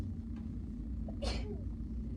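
A single short sneeze bursts out sharply in a quiet room during a precalculus lesson, with a low steady hum beneath it.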